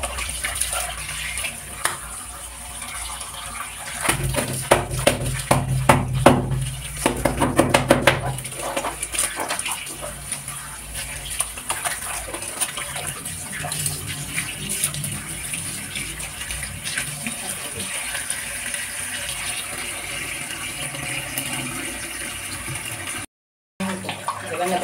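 Tap water runs and splashes while white shoes are scrubbed with soap, a steady close wash with louder bursts of sloshing midway and a brief dropout near the end; a voice talks over it.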